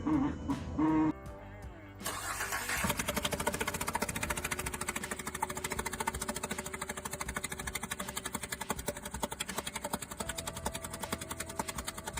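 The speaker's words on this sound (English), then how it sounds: "A customer brought this vehicle in after hearing this knocking sound from the engine." A car engine with a failing turbo idles with a rapid, steady mechanical knocking, loud and close, after a brief burst of other noise at the start.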